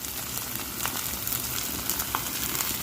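Fried rice with naem, vegetables and spring onion sizzles steadily in a hot pan, with a few faint spatula scrapes over the constant frying hiss, close and moderate in level.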